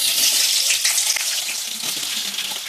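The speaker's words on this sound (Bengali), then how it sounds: "আলুগুলো লাল লাল করে আমি ভেজে নেব" Potatoes frying in oil in a wok, giving a steady, close hiss of sizzling with a faint crackle and light stirring throughout.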